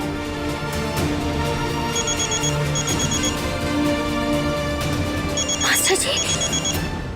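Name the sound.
mobile phone ringing at night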